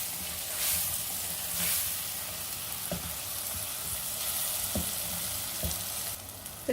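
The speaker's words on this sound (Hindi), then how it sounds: "तो अब इसमें ऐड कर देंगे हम अरबी और आलू। अब इसे भी एक बार घुमा लेते हैं इस तरह से।" Taro and potatoes fry in a pan with onion and tomato for a Sindhi mixed vegetable dish, a steady soft sizzle with a few sharp clinks of a spoon stirring against the vessel.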